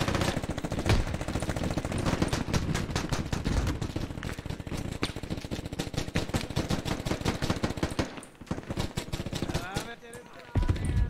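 Rapid gunfire from the military shooter game Squad: dense, continuous bursts of rifle and machine-gun fire, loud and close. A brief lull comes near the end before shooting resumes, and voices can be heard mixed in.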